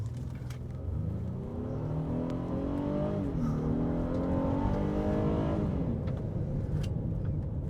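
A 2025 Honda Ridgeline Trailsport on snow tires with all-wheel drive accelerating hard from a standstill, the engine rising in a steady climbing drone with a brief dip and resurge, heard from inside, without talk.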